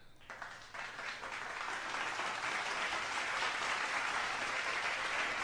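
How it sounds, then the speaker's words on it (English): Sustained audience applause during a radio show, swelling quickly after a brief start and holding steady and fairly loud for several seconds, with no one speaking over it. "So we want to give an applause to her."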